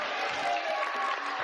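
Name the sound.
studio audience applauding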